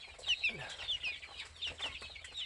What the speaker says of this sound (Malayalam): ഇത് എൻ്റെ കോഴിക്കൂടും എൻ്റെ കോഴിക്കുഞ്ഞുങ്ങളാണ്